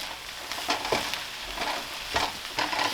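Green onions are stirred into pineapple fried rice in a hot pan, with a steady low sizzle and a few distinct scrapes and knocks of the spatula against the pan, close up.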